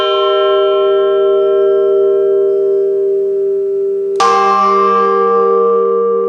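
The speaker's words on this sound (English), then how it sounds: "the chime of a bell isn't just a sound or music" A large church bell rings with long sustained humming partials, then is struck again, giving a bright clang that decays into a rich, reverberant ring.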